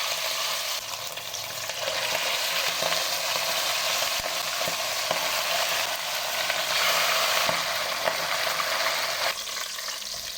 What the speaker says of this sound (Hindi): बाकी फ़िश भी इसी तरीके से फ्राई करेंगे।